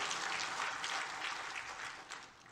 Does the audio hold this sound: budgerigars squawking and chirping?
no